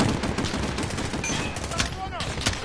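Rapid bursts of automatic gunfire and single shots from a Modern Warfare campaign firefight, loud and dense throughout with overlapping shots and battle noise.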